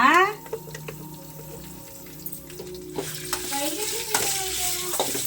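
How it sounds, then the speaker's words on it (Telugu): Curry leaves hit hot oil in a pan with a sharp burst of sizzling, then frying and stirring crackle on steadily close by, with brief speech. "కరివేపాకు వేసుకుంటా."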